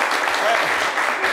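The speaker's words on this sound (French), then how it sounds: "Applaudissez-le bien fort" A brief, steady burst of studio audience applause on a French-language radio show, dense clapping at an even level for just over a second.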